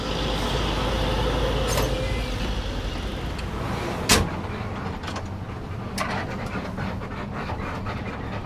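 A bus pulls away from a stop at Cibadak market in Sukabumi, its engine rumbling steadily up close with occasional sharp knocks and a brief air-brake-like hiss amid road noise.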